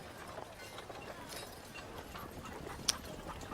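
Horse hooves clip-clop in a fantasy video game as riders meet bandits, a soft steady patter of hoofbeats sitting low under a steady background hiss, with one brief sharp click near the end.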